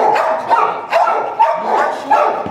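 Young puppy giving a rapid series of sharp yapping barks with small growly whines between them, close and loud, with no talk.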